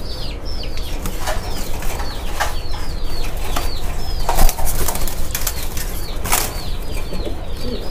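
A female pigeon held in a hand flaps its wings in repeated bursts of fluttering, close and fairly loud, with faint cooing and bird sounds in the background.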